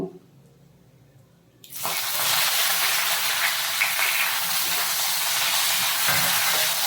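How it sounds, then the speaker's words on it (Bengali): Chopped onions hit hot oil with cumin seeds in a pan and burst into a loud, steady sizzle that holds close and continuous after a quieter moment, with no talking. "পেঁয়াজটা লাল লাল করে ভেজে নেব"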